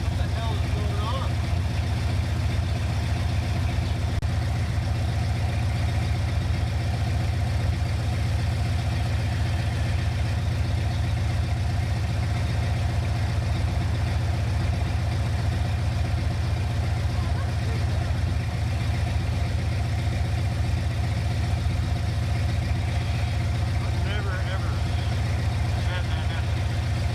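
A hot rod Oldsmobile Cutlass engine fitted with EFI idles steadily and evenly, a continuous close low rumble that holds without throttle changes throughout.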